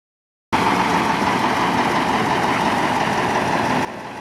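A Tatra 148 truck fitted with a Tam 240 hp V8 fires up abruptly and settles straight into a loud, steady, close idling rumble, easing slightly just before the end.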